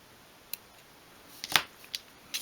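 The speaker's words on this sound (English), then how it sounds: "snip it off" Small scissors snip through material on a 1/12th scale miniature sewing box, a few quick, faint clicks close by in a quiet room.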